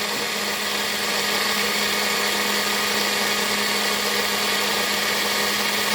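An electric blender whirs steadily and loudly while blending a thick spinach smoothie, a constant high-pitched motor roar with no pauses or talking.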